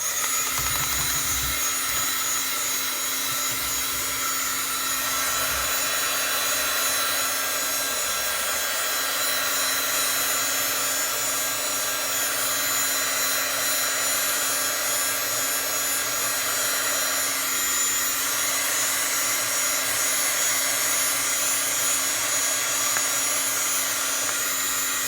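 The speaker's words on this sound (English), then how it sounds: "I'm going to hit it with a heat gun for just a second so you can see." A heat gun blows steadily over bleached fabric, a constant whirring motor hum and airy hiss held close and unbroken throughout, with no speech.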